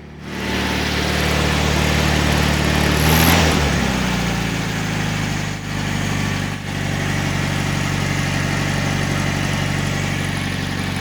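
A 1968 VW Bus engine idles off choke, a steady, loud, close air-cooled drone that runs on its own with only a brief dip partway through.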